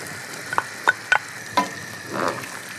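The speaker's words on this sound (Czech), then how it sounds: "Já teďko na konci přidám vařené bílé fazole." Cooked white beans go into a simmering pork ragout with vegetables and tomatoes, giving a few soft close plops and clinks followed by a brief gentle sizzle and bubble.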